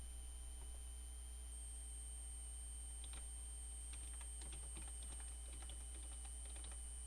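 Computer keyboard typing HTML code, a quiet scattered burst of light key clicks in the middle and later part, over a constant electronic hum and steady high whine.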